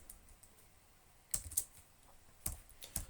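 Code typed on a computer keyboard, heard as a few sparse, close key clicks in small clusters against a quiet background, with no talking.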